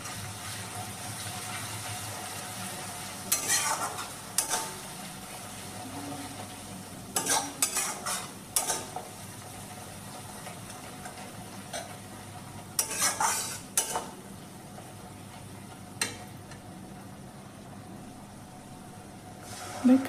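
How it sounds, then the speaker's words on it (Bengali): Masala paste with half a spoon of chili powder being stir-fried in a pan for doi katla: a quiet, continuous sizzle under bursts of a spatula scraping and clattering against the pan, close by and irregular. "হাফ চামচ লঙ্কা গুঁড়ি দিয়ে পুরো মশলাটা 3 থেকে 4 মিনিট কষিয়ে নিতে হবে"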